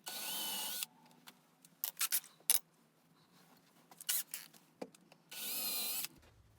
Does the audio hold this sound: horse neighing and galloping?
no